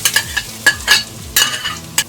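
Ingredients are stir-fried in butter in a wok over low heat, quick repeated spatula scrapes and clinks against the metal over a soft sizzle, close up with no voices.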